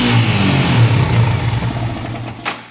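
A Yamaha MT-15 motorcycle with its stock exhaust revs up, giving a loud, close, continuous engine roar that holds steady before tapering off near the end, with no talk over it.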